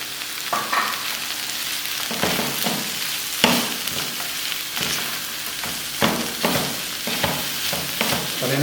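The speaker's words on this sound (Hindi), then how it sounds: "और इनको अच्छी तरह रोस्ट करेंगे हम।" Boiled potatoes and masala roast in a hot pan with a steady loud sizzle, broken by repeated scrapes and stirs of a spoon at an uneven rhythm.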